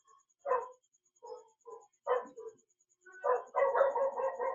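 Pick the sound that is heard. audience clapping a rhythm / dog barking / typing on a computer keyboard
dog barking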